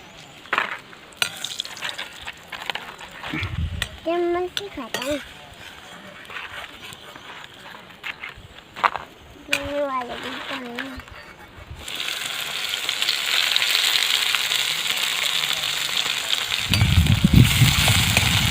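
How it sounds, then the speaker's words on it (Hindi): Onions start sizzling in hot oil partway through, a steady crackling hiss that continues to the end after some quieter clattering and brief sounds. "प्याज को पहले अच्छे से फ्राई कर लेते हैं"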